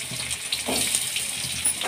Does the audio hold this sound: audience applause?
no